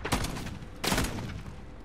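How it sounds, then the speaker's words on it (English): Shotgun fire in Call of Duty Modern Warfare, two loud sharp blasts about three-quarters of a second apart, each with a short decaying tail over continuous game background noise. "I didn't even know this was a shotgun."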